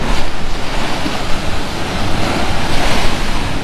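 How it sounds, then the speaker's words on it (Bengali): Sea waves crash and surge continuously on the shore of Mousuni Island right beside beach camp tents, a loud, steady roar of surf mixed with wind buffeting the microphone, with no voices. "সমুদ্রে জল এসে আছাড় মারছে একদম ক্যাম্পের টেন্টের পাশে।"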